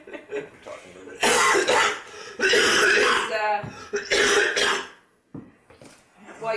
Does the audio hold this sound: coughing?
yes